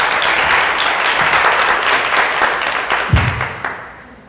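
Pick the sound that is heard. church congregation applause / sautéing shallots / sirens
church congregation applause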